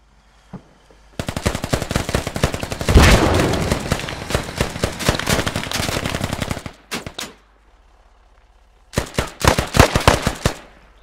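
Rapid bursts of automatic gunfire in a video game, aimed at an approaching logistics vehicle: a long, dense volley followed by two short, sharp bursts after a pause, loud and close with no talk.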